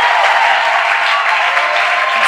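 A church congregation applauding, a steady and loud burst of clapping from many hands that runs without a break for a couple of seconds.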